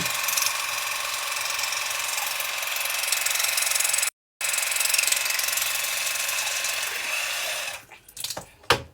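Thompson Waterpulse oral irrigator running, a steady buzzing mechanical whir with a rapid pulsing rattle, briefly cut once, then stopping and followed by a few handling clicks; no speech.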